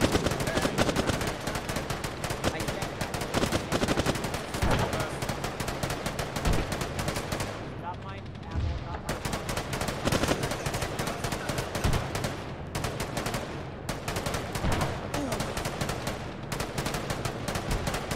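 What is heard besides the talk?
gunfire shot into the smoke in a war video game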